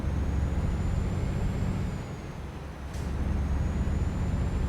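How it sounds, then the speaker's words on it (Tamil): DAF truck in Euro Truck Simulator 2 rumbling steadily, the engine drone dipping as it brakes, with a short faint hiss of air release before the low hum returns. "நான் வர பிரேக் வேறு அடிச்சு வச்சிட்டேன்"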